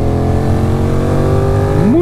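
A Benelli 752S motorcycle engine pulls in a steady, loud drone under acceleration, its pitch holding even before climbing near the end, heard close as if from the rider's position.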